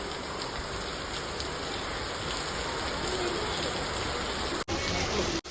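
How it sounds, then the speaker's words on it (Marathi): Steady heavy rain falling outdoors, a dense continuous hiss and patter at close range that fills the whole stretch without a break, cut by two short dropouts near the end. "पाऊस पाऊस"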